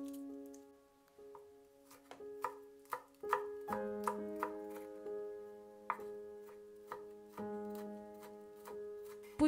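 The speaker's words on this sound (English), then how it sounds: "Chop 2 garlic cloves." Knife chopping garlic cloves on a cutting board, a steady series of light, crisp taps close by, heard over soft tonal background music.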